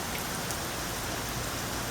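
Steady outdoor rain falls in a dense, even hiss, loud and continuous for the whole stretch, with no voices.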